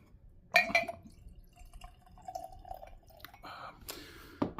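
Carlyle blended Scotch whisky being poured into a glass at close range: a quiet liquid splash and glugging, faint drips and light glass clinks, with short gaps between.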